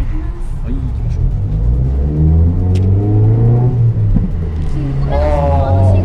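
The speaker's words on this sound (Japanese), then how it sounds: "意外とマフラーいい音するね。" A Suzuki Swift Sport's engine and muffler rev up while driving on a test drive, the exhaust note rising and falling through several pulls, loud and close, with people talking over it.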